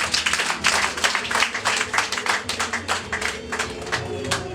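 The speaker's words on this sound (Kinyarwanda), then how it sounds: "mumumera amashyi menshi cyane." Audience clapping for the bride at a Rwandan traditional engagement ceremony, a steady patter of many hands with some background voices mixed in.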